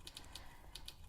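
Quiet keystrokes on a Mac computer keyboard, a handful of light, crisp clicks in two short irregular bursts against a soft background hum.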